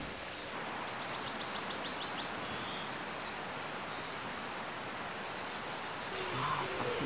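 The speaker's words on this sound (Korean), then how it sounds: "조그만 새소리가 다 나요." Small birds chirp and sing softly in the distance outdoors in early morning, brief high calls repeating over a steady bed of broadband ambient noise, with no talking.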